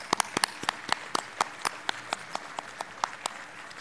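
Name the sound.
audience applause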